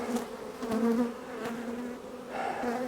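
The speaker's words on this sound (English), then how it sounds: "some of those bees are trying to sting me" Bees swarm around a hive box, their buzzing droning close to the ear and swelling and fading as individual insects fly past.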